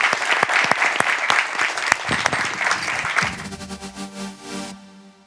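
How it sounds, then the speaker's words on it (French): A studio audience at a television show applauds loudly and densely with sharp individual claps for about three seconds, then the clapping cuts out and a softer, steady tonal sound carries on alone. "on s'applaudit parce qu'on a fait une bonne première partie"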